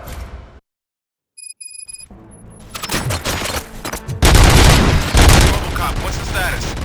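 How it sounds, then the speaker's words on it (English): Gunfire crackles in the video game RoboCop: Rogue City, a sustained chaotic volley of shots and booms building after a short silence and a few electronic beeps. "Gunshots? What's going on?"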